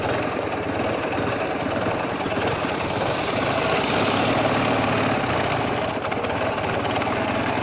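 A Ural motorcycle with a sidecar idles close by with a steady, low, throbbing engine rumble that continues for the whole stretch, with no voices over it.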